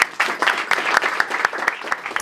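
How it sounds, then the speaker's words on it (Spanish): A crowd applauding, a dense burst of many hands clapping close by, steady and energetic for a couple of seconds. "démosle un caluroso y fuerte aplauso"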